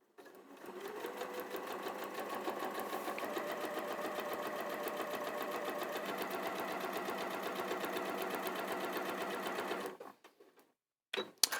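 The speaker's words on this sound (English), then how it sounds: "So I take that to my sewing machine." A sewing machine stitches fabric in one continuous fast run of rapid, even needle clatter, close and steady for about ten seconds before stopping, followed by a few faint handling clicks.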